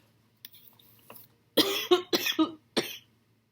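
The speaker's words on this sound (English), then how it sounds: "I apologize for the coughing." A few soft throat sounds lead into a quick run of four harsh coughs, close and loud, with no speech.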